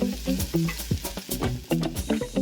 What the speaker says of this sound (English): Saute that a little.